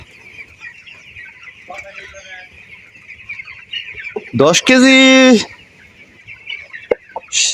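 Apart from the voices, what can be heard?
broiler chickens clucking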